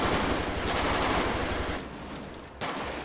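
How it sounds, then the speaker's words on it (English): Rapid automatic gunfire from a GTA 5 police gang-unit mod scene, a loud dense burst of shots that stops briefly near the end and then picks back up. "Keep shooting."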